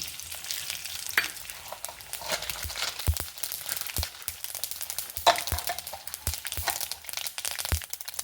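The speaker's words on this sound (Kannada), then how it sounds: "ಎಣ್ಣೆ ಹಾಕೊಂಬ. ಸಾಸಿವೆ ಕಾಳು ಹಾಕೊಂತ ಇದ್ದೆ." Mustard seeds sizzle and pop in hot oil, a close crackling hiss with scattered sharp pops and snaps at irregular intervals throughout.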